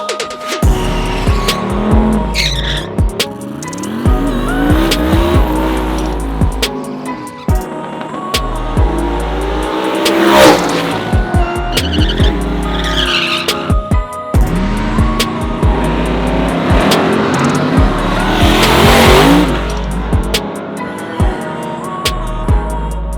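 A loud race car with a 427 Dart block LS V8 revs and roars hard, with tire squeals and engine pulls rising and falling as the car accelerates nearby.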